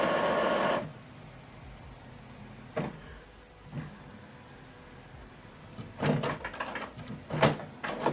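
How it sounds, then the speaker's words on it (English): An HP OfficeJet Pro printer resets its installed ink cartridges, giving a loud mechanical whir at the start, then quiet, then several short carriage clunks and motor bursts near the end, close by. "So what it's doing is setting back the ink cartridges that are installed in the printer."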